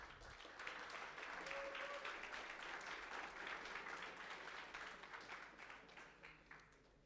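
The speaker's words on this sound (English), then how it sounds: "So just give them a round of applause" An audience at a hackathon breaks into dense, sustained applause, many hands clapping together loudly and evenly for several seconds before gradually thinning out.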